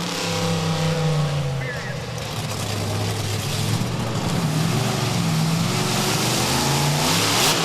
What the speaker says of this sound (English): it sounded like he missed a gear there. Really zoomed the RPMs a little bit.